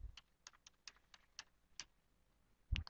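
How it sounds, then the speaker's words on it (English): Sparse, separate key presses on a computer keyboard as an IP address is entered, quiet and close with gaps between taps, ending in a louder thump. "I type in the IP address"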